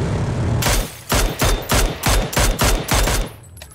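Rapid bursts of automatic gunfire crack close and loud in a battle royale video game, about six clustered volleys in steady rhythm before tapering off.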